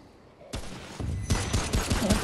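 Rapid sniper rifle gunfire in the video game Remnant: From the Ashes, a dense volley of loud sharp shots that starts abruptly and continues in quick succession with no talk.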